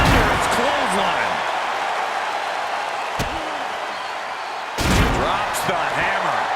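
A heavy clothesline strike lands in a wrestling video game, a sharp slam cracking over roaring crowd noise, followed by another loud smack about a second and a half later, with a commentator talking over the din.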